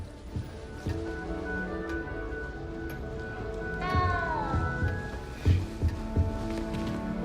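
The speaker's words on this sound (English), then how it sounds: "You don't need to be frightened, little cat." A cat meowing in a dark-witch Hufflepuff playthrough of a Harry Potter video game, a couple of short rising and falling mews over low game ambience and soft thuds, moderately close.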